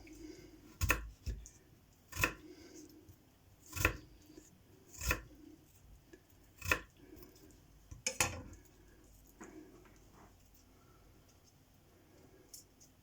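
A knife chops potatoes into small chips on a board, about nine sharp, evenly spaced cuts ringing out close by over several seconds, then trailing off into quieter taps.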